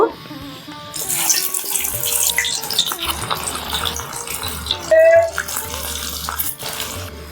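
Egg pieces hit hot mustard oil and break into a loud, crackling sizzle that keeps hissing steadily while a person talks nearby.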